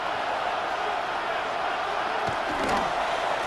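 A Buffalo stadium crowd in Madden NFL 26 roars in a steady, dense wash of noise, a sustained booing din that stays loud throughout with a couple of brief thuds near the end.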